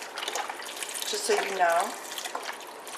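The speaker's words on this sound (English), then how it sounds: "And our vegetable broth. This is 4 cups of vegetable broth" Four cups of vegetable broth pour into a soup pot for a hearty white bean soup, a steady splashing gush under a brief spoken remark.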